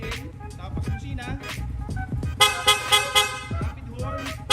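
A horn freshly installed on a Yamaha Sniper 155 motorcycle gives a series of rapid, loud, close toots in a quick rhythm, with someone talking before and around it.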